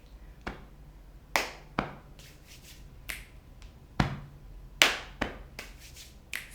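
A group of performers beats out a body-percussion rhythm, sharp claps alternating with crisp finger clicks in a spaced, repeating pattern, close and clear with no talking.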